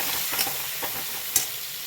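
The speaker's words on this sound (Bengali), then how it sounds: "এইগুলো সব দিয়ে আমি এবার ভালো করে কষিয়ে নেব।" Spices with ginger, cumin, turmeric and potatoes fry in a pan, a steady close sizzle broken by soft scraping stir strokes and a few sharp clinks.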